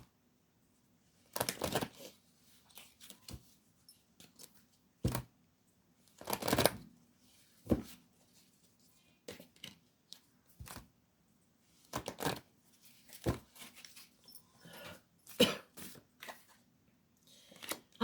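Angel oracle cards shuffled by hand at a tarot reading, a series of soft, irregular riffling and flicking bursts scattered across a quiet room over a low steady hum, nearby and fairly faint.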